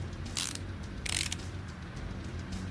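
Bolts being run down on a pressure plate during a clutch swap on a 1957 Chevy Nomad street machine in Car Mechanic Simulator 2018: two short bursts of bright whirring, clicking tool noise over a low steady hum, no talking.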